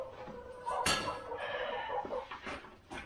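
Chickens at a feeder cluck and call amid farmyard clatter, with a sharp metallic clang near the start. Short intermittent bird calls follow at close range, with no talking.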